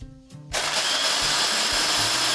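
A blender grinds frozen blueberries, starting abruptly after a brief quiet moment and then roaring steadily and loudly up close with a rough, churning whir.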